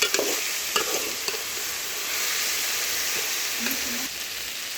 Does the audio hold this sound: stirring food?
yes